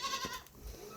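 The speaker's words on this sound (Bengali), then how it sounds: "এটা বারবারি ছাগল।" A Barbari goat gives a brief bleat, short and quiet, with a little faint background noise around it.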